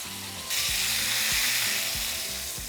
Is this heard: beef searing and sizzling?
yes